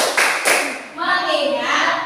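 A teacher and class do a rhythmic focus clap in a classroom. A few quick claps are followed by voices chanting together, with the clapping and talk overlapping at close range.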